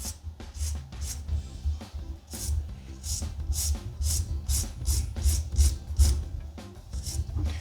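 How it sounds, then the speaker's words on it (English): A coarse grit nail file roughs up a fingernail during a polygel manicure, a steady rhythm of close, scratchy back-and-forth strokes running throughout without pause or talk. "So I'm gonna rough up the nail on both sides where it's not fully covered."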